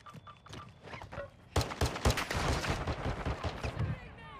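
Gunshots in a multiplayer shooter video game, rapid sharp cracks in bursts, loudest in a sudden volley from the middle onward, with faint game sounds beneath.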